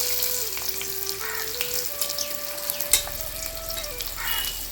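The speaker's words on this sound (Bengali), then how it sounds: "পেঁয়াজটা ভাজা হয়ে গেছে," Chopped onions frying in oil with bay leaves for a jackfruit biryani, a soft steady sizzle with a sustained tone running over it and no talking.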